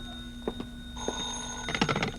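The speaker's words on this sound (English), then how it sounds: "Then I packed a bag, was about to take off when the phone rang again." Old-fashioned telephone bell rings in a radio detective drama, two short bursts of ringing followed by a louder, longer ring with a clatter near the end, set against a quiet room tone.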